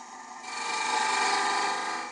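Traditional grind gouge cutting inside a wooden bowl on a lathe, a steady close scraping hiss of steel shearing wood that swells and holds for about two seconds, with no talking.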